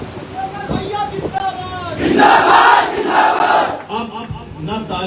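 A political rally crowd roars and chants together, bursts of clapping and shouted slogans swelling loudly midway, with a voice speaking over the noise at times.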